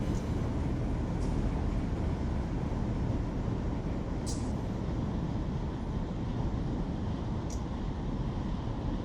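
A train rolls along in the Run 8 Train Simulator game on a California route, a steady low rumble of wheels and cars with faint occasional squeaks and no talk.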